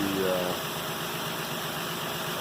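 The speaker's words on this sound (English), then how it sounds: "You can see how nice this engine runs." Nissan Pathfinder 4.0L V6 engine from 2008 idling steadily with a smooth, even hum and light vibration, heard up close with no talking over it.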